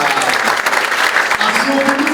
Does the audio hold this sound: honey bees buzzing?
no